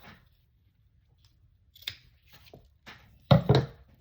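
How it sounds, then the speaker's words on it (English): A few sharp snips of fabric scissors cutting material, starting faint and ending with two louder close cuts in quick succession, otherwise quiet. "Let me grab my material scissors."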